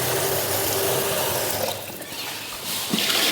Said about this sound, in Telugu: ఏదైతే అయ్యింది మొత్తం వాటర్ పోసి కడిగేద్దాం.